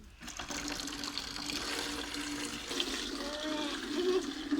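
Tap water runs steadily into a container indoors, a continuous rushing splash with a faint rising tone as it fills, heard alone without talk.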